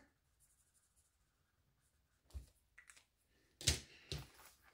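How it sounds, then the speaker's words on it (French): A pen colours in a small star on a paper budget sheet: a few soft, scratchy strokes after a quiet stretch, with a busier burst of scribbling near the end, close and fairly faint. "Hop, on va colorier une petite étoile."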